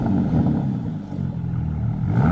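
A 2025 Ram RHO with an MRT mid-pipe resonator delete exhaust gives a loud, steady, deep engine drone that swells slightly near the end, with no voices over it.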